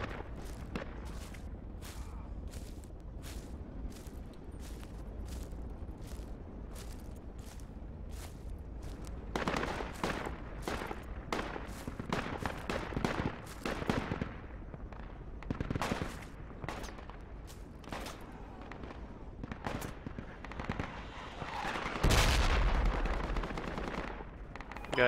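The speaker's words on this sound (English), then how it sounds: "Got incoming mortars at West City." Gunfire and incoming mortar fire in the Project Reality video game, with repeated rifle and machine-gun bursts cracking over a steady low rumble and a heavier blast near the end.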